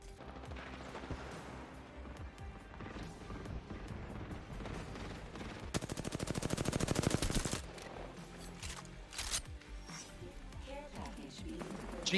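Rapid gunfire from a G7 Scout rifle in the Apex Legends video game, team deathmatch mode, with a dense burst of shots around the middle over constant game music and effects.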